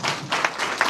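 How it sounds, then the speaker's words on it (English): Applause from an audience at a town hall meeting and press conference in Ghana, a short burst of dense clapping with a few sharper peaks, loud and close, without any talk. "A very loud round of applause."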